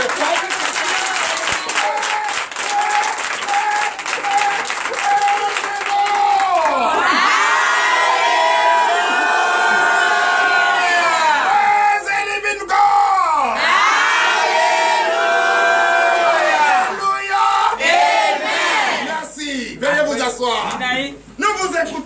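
A congregation at a morning prayer service in Benin cheers and applauds loudly and continuously, a dense wash of clapping mixed with shouts, whoops and high voices rising and falling in waves.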